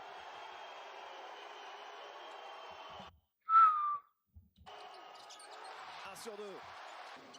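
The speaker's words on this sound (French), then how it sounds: "On entend des sifflets comme si on était à l'extérieur." A single shrill whistle from the crowd at a professional playoff basketball game cuts through arena ambience, after a brief dropout and before the crowd noise returns with a few distant thuds.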